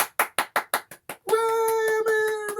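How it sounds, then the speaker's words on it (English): A drum class claps for themselves: a few sharp, evenly spaced claps, then a short dense burst of applause with a sustained tone ringing underneath. "Give yourselves a round of applause for doing that."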